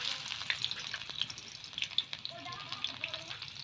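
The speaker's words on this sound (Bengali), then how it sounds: "তেল গরম হয়ে গেছে, প্রথমে দিয়ে দিচ্ছি পেঁয়াজ কুচি" Chopped onions fry in hot mustard oil in a village kitchen, a soft, crackling sizzle with irregular pops, heard close but fairly quiet, with no talking.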